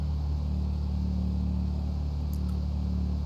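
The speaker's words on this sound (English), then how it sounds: "We have the nice engine sound on this vehicle." Dodge Charger sheriff patrol car engine in a video game, a steady, deep, throaty rumble held at an even pitch throughout, close and continuous with no voices.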